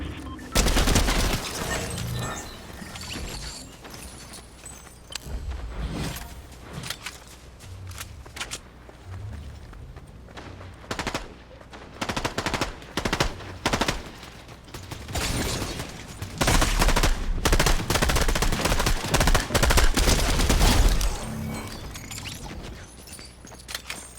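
Intermittent video game gunfire, with scattered loud shots and bursts separated by quieter gaps, some shuffling and footstep-like movement between them, and a denser run of firing late on.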